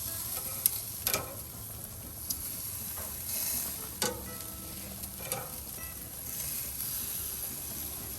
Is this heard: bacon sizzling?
yes